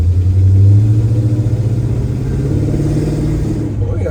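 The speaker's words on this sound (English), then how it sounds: "Fires right up. Let's take this baby for a ride, see how she performs." A 1971 Chevrolet Chevelle with a column shift runs while being driven, giving a loud, steady, deep engine rumble that carries throughout.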